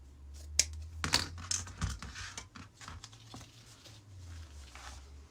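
Scissors snipping wired ribbon ends at an angle into dovetail V cuts for wreath decor on a wooden door sign, giving a string of sharp, close clicks and crisp snips with soft rustling between them.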